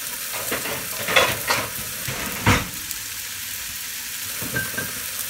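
Sausages frying in a pan give a steady sizzle with occasional louder crackles and stirring clatter, heard close up with no talk.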